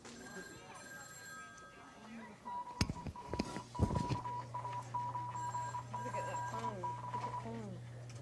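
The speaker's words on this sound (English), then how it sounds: "Get the phone." A telephone rings in a newsroom with a sustained electronic tone and sharp bursts, while people talk around it and other steady hums and clatter carry on in the room.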